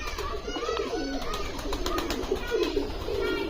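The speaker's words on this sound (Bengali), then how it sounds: "কবুতর" Pigeons coo repeatedly at close range among a mix of poultry, soft rolling calls recurring through a busy background with some voices nearby.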